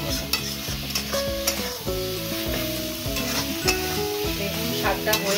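Red amaranth greens frying with sugar in a pan, with a steady close sizzle and occasional stirring scrapes beneath louder background music.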